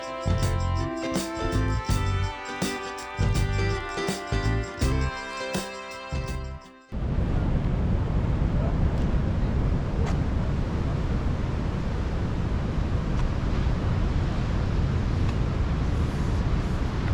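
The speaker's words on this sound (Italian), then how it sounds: "Mare abbastanza incazzoso." Rough sea on the Alghero coast in Sardinia, heard after some music ends: a loud, continuous roar of surf and wind blasting the microphone, close and unbroken.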